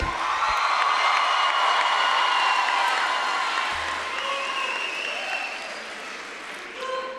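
A large graduation audience of families applauds and cheers loudly, a dense sustained roar of clapping with whoops that slowly tapers off, then swells slightly again near the end.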